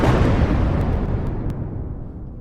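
A loud explosion sound effect: a deep, rumbling blast that starts at full force and slowly fades over a couple of seconds, with no voices.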